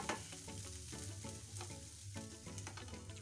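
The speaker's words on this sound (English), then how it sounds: "So we add our ginger and garlic, mix everything together" Ginger and garlic fry in a pot with a faint, constant sizzle while being stirred, the spoon scraping in a loose rhythm.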